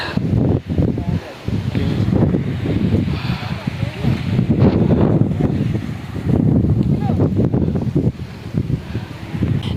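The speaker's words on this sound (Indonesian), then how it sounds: "Anginnya kenceng banget, berkabut." Strong gusting wind in fog and drizzle on Mount Prau buffets the microphone, a loud rushing roar that rises and falls, with people talking over it.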